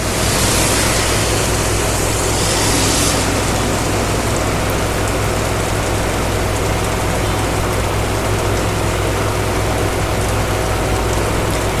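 Heavy monsoon rain pouring down steadily onto a flooded courtyard, a dense, unbroken roar of falling water that stays loud and even throughout.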